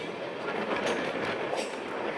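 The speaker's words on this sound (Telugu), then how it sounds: "ఇది ఫుల్ లెంత్ ట్రైన్." A full-length passenger train made up mostly of general coaches runs on rails, giving a steady, close rumbling roar with faint clatter throughout, no voices.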